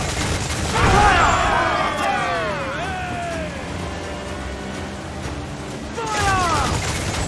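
Ship mortars and cannons fire in Assassin's Creed IV, with heavy booming bursts and a rumbling barrage under shouting crew voices and whistling projectiles.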